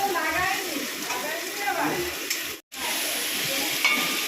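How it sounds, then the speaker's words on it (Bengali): Capsicum frying in a pan with cumin gives a steady sizzle and hiss close by, with stirring scrapes. A person talks over it throughout, and the sound drops out briefly near the end. "ক্যাপসিকাম হ্যাঁ সিমলা মির্চ ভাজা হচ্ছে"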